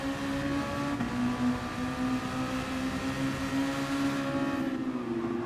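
Red Bull X2014 Junior race cars roar off the start at Willow Springs Big Willow in a racing video game, a steady, loud engine drone with rich harmonics that shifts in pitch near the end.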